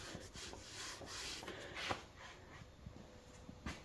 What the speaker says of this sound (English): Just have a maple runner underneath here to fit in the miter slot. Wax that up so it slides back and forth pretty nice.